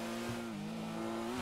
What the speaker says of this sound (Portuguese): Cara, essa moto aqui é muito boa